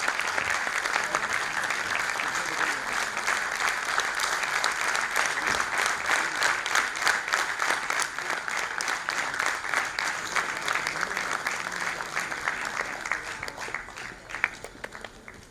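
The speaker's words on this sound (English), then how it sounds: "we get a loud round of applause for all the awardees?" An audience claps at length for the winners at an award and board installation ceremony, a dense, even roar of hands that holds steady throughout, with a few sharper claps near the end.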